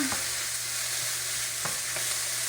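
Red pepper sautéing in a little oil in a pan for a South African fruit and vegetable stew, a steady close sizzle with a few sharp stirring scrapes and clicks.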